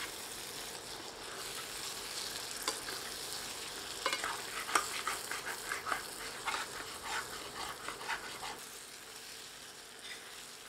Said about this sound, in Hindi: हीट को मीडियम करके इसे 3 से 4 मिनट और भूनते हैं।